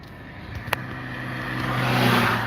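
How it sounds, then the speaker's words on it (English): A car passes on a rural road lined with cornfields near St. Croix Falls, Wisconsin, its engine and tyre noise swelling steadily as it draws closer, with no talking. "I'm gonna let this car pass me."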